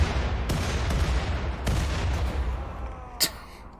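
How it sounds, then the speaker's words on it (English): Mortar fire in the video game RimWorld: a series of heavy booming impacts and blasts at irregular intervals, with a final sharp crack near the end, dense and loud with rumbling low end. "here comes the mortars"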